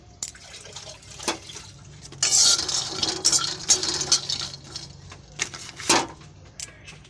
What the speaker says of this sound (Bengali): শুকনো কড়াতেই কাঁচা বাদাম ভেজে নিচ্ছি